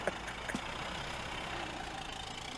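An old, rusty car engine idles in the Mafia Definitive Edition game, a steady mid-to-low rumble that stays even throughout, with a couple of faint clicks near the start and no talking.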